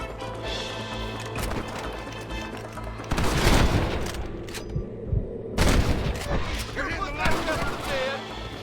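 Gunfire in the Western shooter Red Dead Redemption: scattered sharp shots crack out, with two heavy, loud volleys standing out, amid hoofbeats and game noise while someone talks over it.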